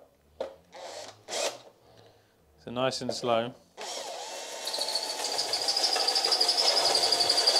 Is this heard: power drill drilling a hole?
yes